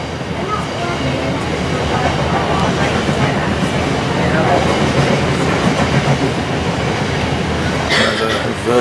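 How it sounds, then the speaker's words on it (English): A freight train on a West Yorkshire main line passes close by a station without stopping, a steady loud rumble with clickety-clack of wheels and a brief squeal near the end. "It could be a freight train avoiding the station."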